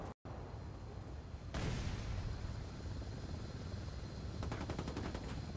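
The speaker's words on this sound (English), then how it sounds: "Chopper, hit the dirt!" A helicopter in the video game Ghost Recon Wildlands moves in amid game noise, building to a loud, dense roar partway through, and steady rapid chopping pulses set in near the end.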